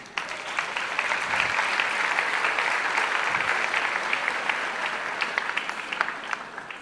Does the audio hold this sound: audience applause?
yes